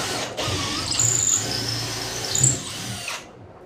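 A power drill drives screws into a timber aquarium stand, one loud sustained whirring run with a brief squealing rise near the end before the motor cuts out, close and alone.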